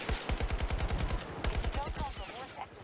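Stationary mounted turret in the Battlefield 2042 video game firing long rapid bursts, heavy rhythmic thuds close and loud, pausing briefly before another burst, then tapering off.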